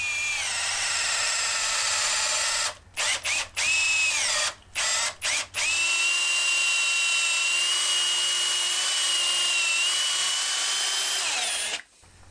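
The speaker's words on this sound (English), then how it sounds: "I drilled about halfway through, then I could remove the speed square and carry on drilling." A power drill with an auger bit whines loudly and steadily as it bores into yew wood for a floating shelf, pausing briefly a few times, then runs in a long continuous push before stopping.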